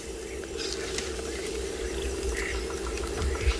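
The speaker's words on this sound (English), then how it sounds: "There's lots of nice bird calls." Scattered birdsong at sunrise on a safari drive at Tswalu: short chirps and calls from several birds, moderately distant, over a steady low hum that sounds like an idling vehicle engine.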